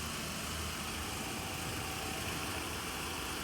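A Suzuki Dzire 1.4 GL automatic sits idling with the hood open, a steady, even engine hum heard close up with no talk over it.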